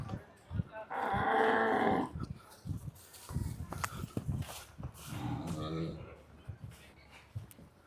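Cattle being loaded onto a truck at an animal farm, with a long, loud moo near the start and further lowing bursts later, mixed with commotion and people talking.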